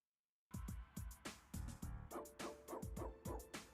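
A dog bark sound effect plays as a stream redeem, a quick run of about a dozen sharp yips and barks in an uneven rhythm, loud and alone after a short silence.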